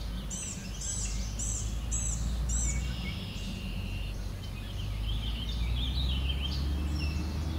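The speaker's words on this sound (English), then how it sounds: "There we go, just caught warbling vireo." Warbling vireo singing outdoors, a string of bright warbled phrases rising over a steady low background rumble, moderately distant.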